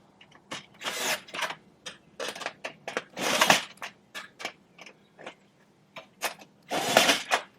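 Tightening bolts on a budget DIY raised garden bed with a small quarter-inch screwdriver and a 10mm wrench: irregular bursts of metallic clicks and scraping ratchet-like strokes, close and fairly loud, with short pauses between turns and no speech.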